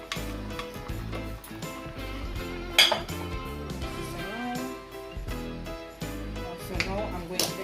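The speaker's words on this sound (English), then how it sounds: "now I'm going in with my wash rice. Just add in everything." Washed rice poured into a pot of seasoned ingredients for Jamaican seasoned rice, then stirred, with a spoon scraping and clinking against the pot in bursts, over steady background music.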